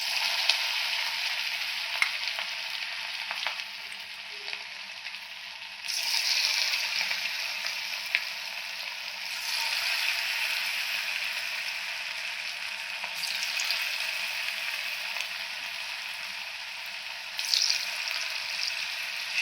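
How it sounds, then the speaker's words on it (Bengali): Chicken pakoras deep-fry in hot oil in a small wok, a steady close-up sizzle and bubbling that swells louder as fresh pieces drop in, with light clinks of stirring. "তো এখন আমি ভেজে নেব। দেখুন কড়াইয়ে এখানে তেল দিয়ে দিয়েছি।"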